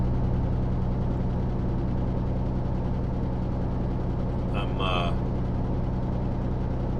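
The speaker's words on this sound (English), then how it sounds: "I got the truck revving pretty high." A flatbed truck's engine held at high revs gives a steady, close drone with a constant low hum that runs unbroken for the whole stretch. A brief higher chirp rises near the end.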